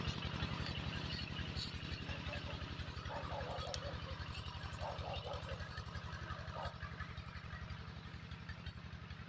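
A small engine drives a water pump for irrigating a cornfield, a steady, rapid low chugging throughout while a person talks nearby.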